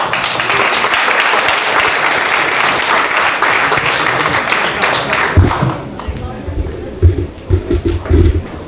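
Dense, loud applause from guests at a wedding reception fills the room steadily, then gives way to rhythmic, thumping claps and scattered crowd noise toward the end.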